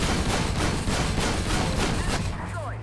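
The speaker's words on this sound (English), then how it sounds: "But, then again, I am under sustained fire." Sustained gunfire in the tank combat video game Armored Warfare, played from a BMD-4 armored vehicle: dense, loud, continuous battle noise with repeated heavy shots throbbing under it for the whole stretch.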